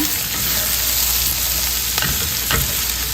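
Pork belly frying with chili and salt in hot oil gives a loud, steady sizzle close by, broken by a couple of brief stirring clatters.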